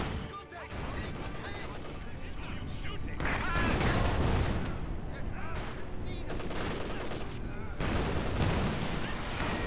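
Heavy battlefield gunfire and artillery from Company of Heroes 2 rolls on continuously, with loud dense bursts and booms throughout and a voice talking over the combat.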